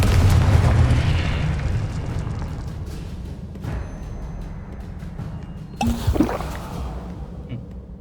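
A deep, booming blast from a Confringo spell in Hogwarts Legacy opens loud and rumbling, then decays into a long crackling tail, with a second sharper burst near the end.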